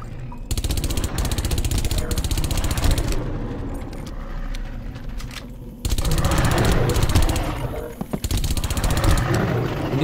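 Sustained automatic gunfire in the shooter Far Cry, a full magazine emptied in dense rapid bursts with a brief pause near the middle, loud and continuous with game ambience behind it.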